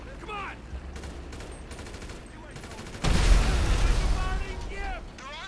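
Gunfire in GTA V crackles in rapid bursts at a moderate level, then swells into a louder, thicker volley partway through. A voice can be heard faintly over it.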